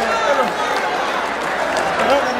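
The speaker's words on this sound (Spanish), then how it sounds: "Regálenme más fuerte el aplauso para Rancho La Misión y para este jinetazo." A rodeo crowd at a Mexican jaripeo in Temixco, Morelos, applauds steadily while an announcer talks over the clapping.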